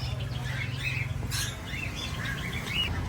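Grey cockatiels chirp in a cluster of short, bright, repeated calls over a low background hum, fairly close and busy throughout.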